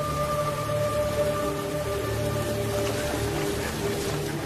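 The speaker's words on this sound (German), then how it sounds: "da brachen heftiger Regen und Sturm los." Heavy rain and storm as an audio drama effect for the Battle of the Teutoburg Forest: a dense, unbroken roar of downpour fills the whole stretch at a steady level, with faint low tones underneath and no voices.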